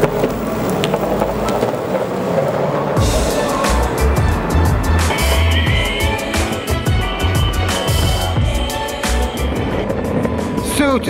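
A Backfire 2 electric skateboard rides outdoors with a steady, loud rush of wind and wheel rumble, and a thin motor whine rises as it picks up speed.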